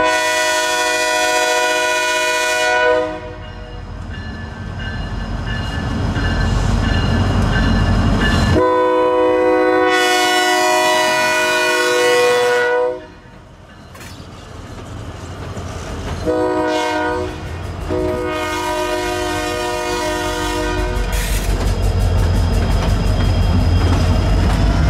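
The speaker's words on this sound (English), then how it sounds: "It wasn't long until YV1 was ready to depart with 27 cars left for the Tyson feed" Freight train YV1 on the Yadkin line, led by KLW SE32C locomotive #3200, departs with 27 cars, sounding repeated loud horn blasts over a steady rumble of the engine and rolling wagons close by.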